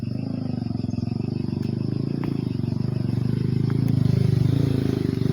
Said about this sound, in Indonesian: Lagi-lagi masih ada suara motor di sini.